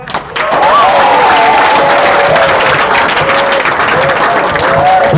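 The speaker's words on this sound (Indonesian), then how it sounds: "tepuk tangan dong, tepuk tangan." An audience at a Ramadan gathering in a modern Islamic boarding school breaks into loud, sustained applause that fills the room, and a voice and some cheering ride over the top.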